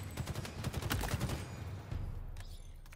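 BR battle rifle in the Halo Infinite video game fired in repeated quick bursts, sharp cracks clustering in the first second and a half, then a few sparser shots and a lingering tail.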